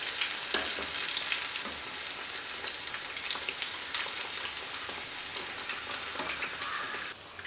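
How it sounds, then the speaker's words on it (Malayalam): Banana fritters (pazham pori) deep-frying in hot oil give a steady, dense crackling sizzle that runs unbroken and fairly loud, with small pops scattered through it and no voices. "ഇതുപോലെ നമുക്ക് ബാക്കിയുള്ളതും കൂടെ ഫ്രൈ ചെയ്തെടുക്കാം."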